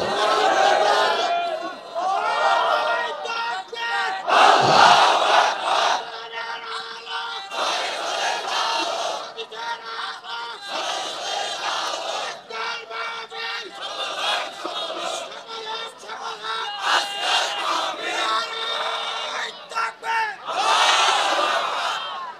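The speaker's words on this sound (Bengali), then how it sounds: "এখন সবাই একটু তাকবীর দেন তো দেখি" A large crowd at a religious sermon gathering roars a takbir chant, several loud, massed group shouts in repeated bursts, with a preacher's amplified voice between them.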